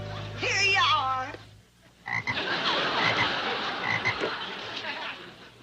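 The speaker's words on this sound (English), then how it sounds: "It's a frog." A frog croaks in a loud, deep, rattling run of croaks, close and continuous for several seconds, following a short stretch of a voice speaking with a low hum beneath it.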